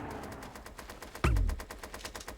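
Video game gunfire comes as a rapid, steady stream of shots that are moderately loud and close, with one heavy thump in the middle.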